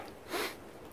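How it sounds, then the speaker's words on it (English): One short, close sniff through a runny nose from a person at a wild camp in damp winter weather, faint and quick, followed by a tiny rustle. "Sniffles, sniffles, sniffles,"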